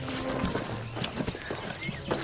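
A horse's hooves clip-clop in quick, uneven knocks close by, with a faint whinny-like cry, over a busy noisy background.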